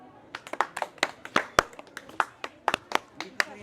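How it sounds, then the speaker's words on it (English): Sharp hand claps in an irregular run of about a dozen, close and crisp, with some quick doubles and no talk between them. "And then he clapped his hand."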